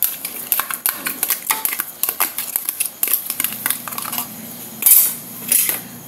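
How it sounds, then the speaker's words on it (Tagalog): A spoon scrapes and clinks against a bowl while sago pearls and green pandan gulaman are mixed into a dessert. Rapid, close clatter comes in uneven bursts. "Ihalo lang natin yung ating sago."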